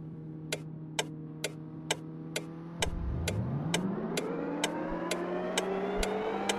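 Car pulling away and accelerating while a turn-signal-like tick repeats steadily, the engine note rising smoothly from idle as speed builds, heard from inside the cabin at moderate volume.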